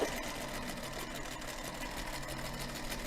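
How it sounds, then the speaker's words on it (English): A Featherweight sewing machine stitches fabric, sewing diagonal lines on quilt triangles, with a steady continuous mechanical whir and rapid needle rhythm running close and evenly throughout. "I'm sewing just like a 1/16 of an inch inside my sewing lines that I marked"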